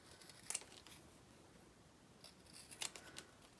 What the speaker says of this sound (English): The first thing I'm gonna do is I'm gonna cut these apart.